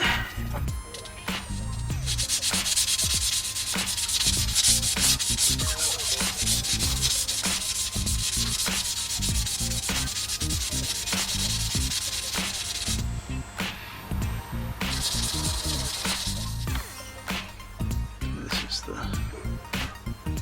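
Andamooka matrix opal is wet sanded on 800 grit, a loud, continuous close-up rubbing hiss that runs for most of the stretch, broken by a brief pause and scattered knocks.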